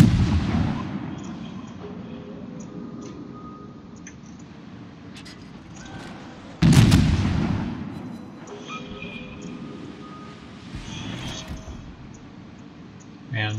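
Warship guns fire in World of Warships naval gameplay: one loud heavy boom stands out midway, with fainter distant booms and pops and a low rumbling battle background around it, and no one speaks.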